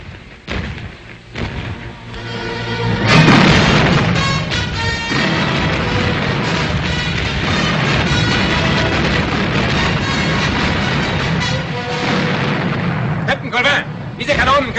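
A broadside of cannon fire from a pirate ship in a film: a run of heavy booming blasts and crackling bursts that merge into a sustained roar, then a few sharper reports near the end.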